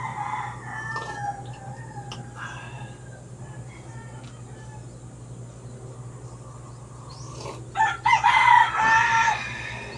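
A voice imitates a rooster's crow near the end, a loud, rising call rising out of a steady low hum, with faint insect chirps in the quiet morning background before it.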